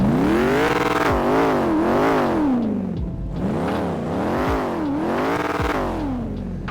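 Custom V8 engine of a Camaro ZL1 in GTA V revving hard in repeated rising-and-falling sweeps, two pairs of loud, close throttle blips with brief dips between them, no talking.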